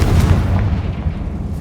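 In the Hogwarts Legacy video game, a Confringo blasting spell explodes: a loud, close, rumbling boom that fills the whole moment and slowly dies away, with no voices.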